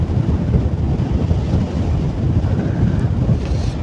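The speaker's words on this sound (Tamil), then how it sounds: "காற்று சில்லுன்னு அடிக்கி." Cool wind rushes over a motorcycle rider on a road trip through the hills near Munnar, a loud, steady, low buffeting roar that fills the whole stretch with no talk.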